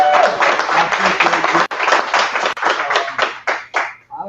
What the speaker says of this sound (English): I just want to give you a round of applause.